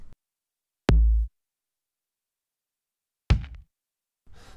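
Kick drum samples auditioned one at a time in Cubase 9.5: two deep, punchy electronic thumps separated by silence, the first with a longer boomy tail, followed by a brief softer noisy hit near the end.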